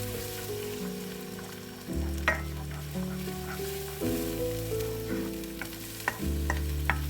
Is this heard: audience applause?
no